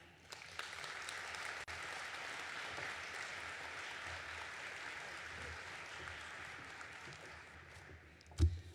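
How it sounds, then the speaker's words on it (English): Sustained audience applause fills a nursing pinning ceremony hall, steady and even throughout, fading slightly toward the end with a brief louder clap or thump just before it stops. "please join me in giving a resounding round of applause for our guest speaker, Sandy Hall."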